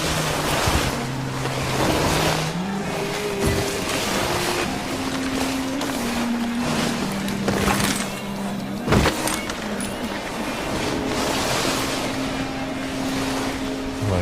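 Skis carve through snow in the video game Steep: a continuous rushing, surf-like whoosh with wind noise and shifting swells of hiss throughout, with no talking.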